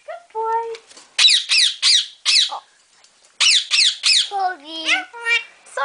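A pet bird, a caged budgie or parrot, lets out repeated shrill squawks and whistling calls in bursts, close and loud, with short quiet gaps between groups.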